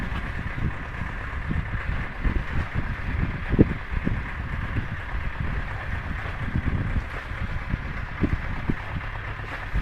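A sailboat under motor power pushes into a headwind, leaving a low engine rumble, water wash and wind buffeting on the microphone that run steadily throughout with no voices.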